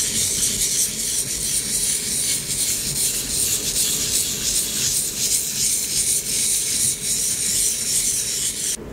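A knife blade is rubbed in tight circles on a sharpening stone, making a steady close rasping scrape that continues evenly throughout with slight rhythmic swells.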